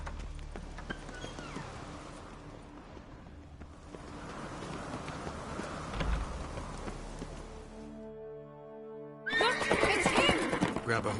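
Horses in The Witcher 3 video game, hooves clip-clopping with a whinny amid a dense game soundscape, then a louder burst near the end as the riding picks up.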